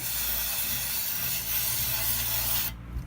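Close, steady hiss of aerosol cleaner sprayed onto the throttle body of a 1996 Nissan Maxima, running continuously for nearly three seconds before cutting off abruptly near the end.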